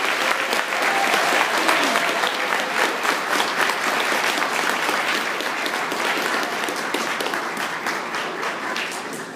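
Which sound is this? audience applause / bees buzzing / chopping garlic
audience applause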